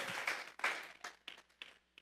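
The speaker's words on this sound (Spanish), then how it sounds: "Vamos a regalarle ofrenda de palmas al Dios de la gloria." A church congregation at a Sunday service claps in uneven, scattered bursts that thin out into a few separate claps, fairly close, with no talking.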